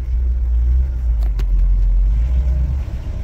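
1969 Chevy C50 fire truck pulling away in second gear from a stop on a back road, a heavy low engine rumble heard from inside, steady and loud throughout with slight rises in pitch.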